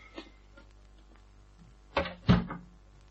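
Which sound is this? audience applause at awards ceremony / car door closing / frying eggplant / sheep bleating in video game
car door closing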